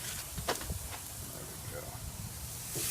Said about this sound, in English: And that's what it sounds like when it hits the grill.